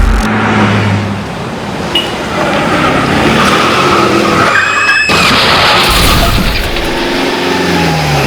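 Car tires skid and squeal loudly in a near collision on a street, a close, sustained screech with engine noise underneath, cutting sharply midway before the skid and rumble resume.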